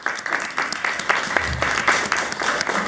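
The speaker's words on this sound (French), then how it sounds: "on les applaudit." Audience applause at a Creole-language book fair in Montreal, steady clapping from a seated crowd filling the space at moderate loudness, continuous for about three seconds.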